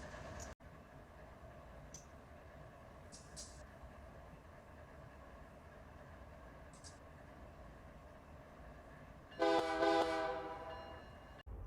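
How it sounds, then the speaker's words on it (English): Diesel locomotives in a rail yard in Run8 Train Simulator drone steadily at full power, a low continuous engine rumble with faint clanks and a loud horn blast near the end. "these engines are running at full power within a yard"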